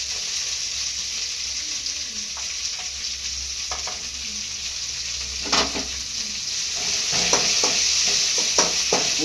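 Mint leaves sizzling in a pan on low heat for a pudina elaneer chutney, a steady soft frying hiss broken by scraping stirs and clinks that grow busier toward the end.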